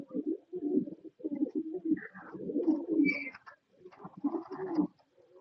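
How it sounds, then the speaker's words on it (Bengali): Red Beauty Huma pigeons, a pair sitting on eggs, coo close by in a series of low, throaty, repeated phrases with short gaps between them. "খুবই সুন্দর এটা বিউটি হুমা কবুতর"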